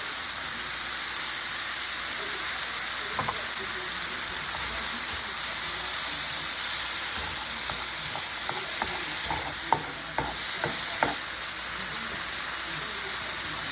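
Minced garlic sizzles in a skillet during brunch cooking, a steady frying hiss with a few light clicks and pops near the end.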